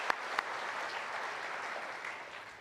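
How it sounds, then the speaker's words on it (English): A round of applause at a city state-of-the-city address, opening with a couple of sharp claps before settling into a sustained, moderately distant wash of clapping from the audience. "I'd like to just give them another round of applause."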